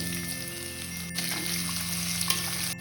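Onion dropped into hot oil already seasoned with cumin, mustard seeds and chillies for upma, giving a steady, fairly close sizzle with a faint tap or stir partway through and no talking.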